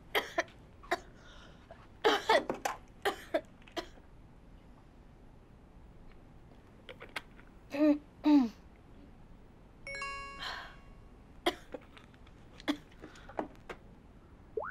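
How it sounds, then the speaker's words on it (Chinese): Coughs in a hotel room come as scattered sharp bursts, several clustered early and a pair near the middle, with a chime-like ding partway through over a quiet room background. "刚刚是不是你在咳嗽啊？"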